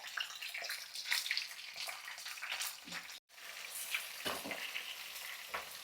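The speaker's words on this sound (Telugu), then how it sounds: "ఆయిల్లో కొంచెం ఇది దోరగా వేగాలి" Small cut chicken pieces fry in hot oil in a pan, a loud, dense sizzle and crackle with stirring scrapes, close up and continuous apart from a brief dropout partway, with no talk.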